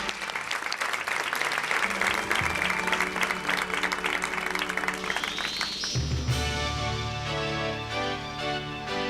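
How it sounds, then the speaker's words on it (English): Audience applauding outstanding teachers at a schools' awards event, a full steady round of clapping for about six seconds before music swells in and takes over. "Please give another round of applause for these outstanding teachers who do such a great job."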